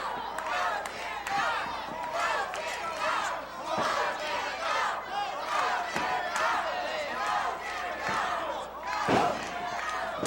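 Wrestling fans in an arena cheer steadily for Tim Ashley, their crowd noise and shouts continuous throughout with sharp impacts from the ring cutting through, while a commentator talks over it.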